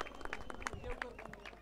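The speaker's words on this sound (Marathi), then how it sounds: "एकदा जोरात टाळ्या वाजवा" An outdoor crowd claps at the Hutatma Rajguru Premier League 2024 cricket prize ceremony, with scattered, uneven hand claps at moderate distance and some voices mixed in.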